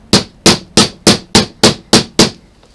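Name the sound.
small hammer hammering clutch snap prongs together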